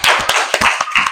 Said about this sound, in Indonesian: Silakan tepuk tangan semuanya.